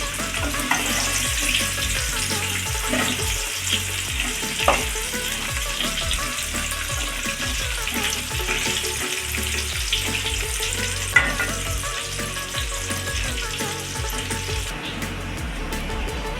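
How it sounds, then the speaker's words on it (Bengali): Cut papaya pieces fry with potatoes in a pan for a Bengali mutton curry, a steady loud sizzle with crackling spatters and occasional stirring scrapes throughout. "এবার আমি দিয়ে দেবো এই কেটে রাখা পেঁপেগুলো এইভাবে আলুর সাথে একটু ভেজে নিতে হবে"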